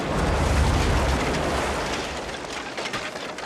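An explosion blast from the film Back to the Future III roars loudly at the start, then fades into a long rumbling decay with no talking.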